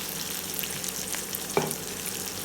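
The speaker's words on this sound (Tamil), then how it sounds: "நல்லா வதங்கட்டும் கொஞ்சம் நேரம்." Slit green chillies sauté in a hot pan for a mackerel fish curry, giving a steady close sizzle with a brief stir scrape partway through.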